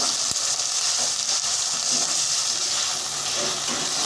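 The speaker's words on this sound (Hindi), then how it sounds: "अब हम इसमें अदरक लहसुन का पेस्ट ऐड करेंगे और इसे भी भून लेंगे अच्छे तरीके से" Ginger garlic paste fries with lightly browned onions in a pan for aloo keema, a loud, close, continuous sizzle with brief stirring scrapes and no talking.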